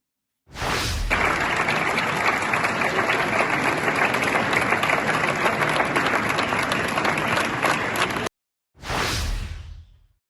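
UN delegates in the assembly hall applaud the adoption of the Pact for the Future, a loud, even burst of clapping that cuts off abruptly, followed by a brief second swell after a short gap.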